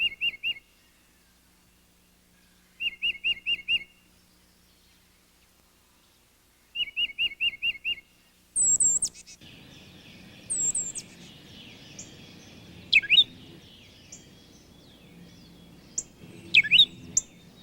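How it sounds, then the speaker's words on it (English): A tufted titmouse calls in a backyard, repeating short bursts of four or five clear whistled notes with pauses between, followed by a mix of higher chirps and whistles from other birds, all fairly close and with no talking. "there will also be tufted titmice, a common and delightful bird of the backyard"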